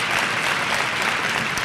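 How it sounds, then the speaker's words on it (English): A room of luncheon guests applauds keynote speaker Judy Smith, a steady wash of clapping from many hands held at an even level throughout. "Can we give her another round of applause?"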